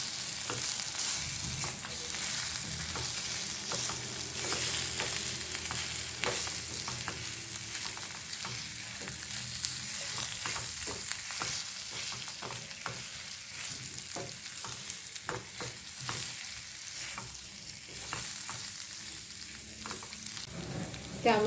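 Dahi aloo stirred in a hot pan after salt goes in, a steady close sizzle of frying with repeated scraping stir strokes, no talk.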